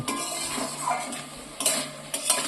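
Salted masala for a potato and flour recipe being stir-fried in a pan, with a spatula scraping and clinking against the metal in quick irregular strokes over a soft sizzle, close by.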